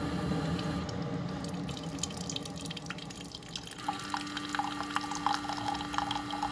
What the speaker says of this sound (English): I'm actually going to put hot water into it